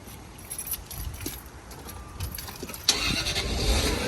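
A car engine is jump-started with an ATGFOX 8250A heavy-duty battery jump starter. Cranking and keys are heard first, then the engine catches with a sudden burst and settles into a steady close idle.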